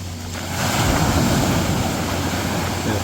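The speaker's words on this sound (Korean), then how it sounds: "파도가 저기 경계를 때리는 거거든요" Ocean waves on the Jeju Island coast crash against a barrier ledge and wash continuously nearby, a loud broad roar of surf with wind, no voices.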